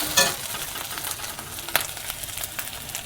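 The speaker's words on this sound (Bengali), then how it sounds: "এবার মশলাটা কষাবো" Spice paste fries in a pan over a lowered gas flame, after garlic has been browned: a quiet, continuous sizzle with occasional sharp stirring scrapes and clicks close by.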